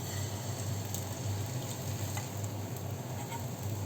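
Oats and egg omelette batter hitting a hot pan sizzles in a steady, even hiss that holds for several seconds, quiet and close with no talking over it.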